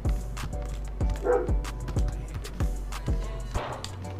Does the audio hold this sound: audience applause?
no